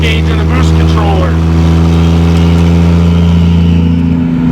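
A turbocharged 2JZ-GE NA-T swapped into a Mk3 Supra pulls hard in third gear under boost, a loud, sustained engine drone that climbs briefly at the start and then holds steady throughout.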